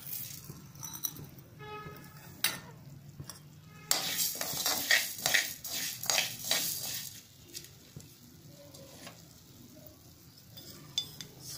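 Coriander seeds spooned into a pan for homemade garam masala, heard as close metallic clinks and rattling scrapes of the spoon, busiest in the middle, with a soft sizzle behind.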